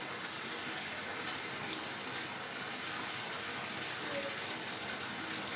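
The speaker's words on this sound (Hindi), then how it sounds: "ये बेटा मुँह धुलो, दिया दिया मुँह धुल लो।" Water runs from a tap while a child washes their face, a soft continuous hiss and gush of flowing water heard at low level and steady throughout.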